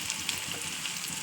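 Whole spices frying in hot oil, a steady, fairly quiet crackling sizzle with small pops and no talk.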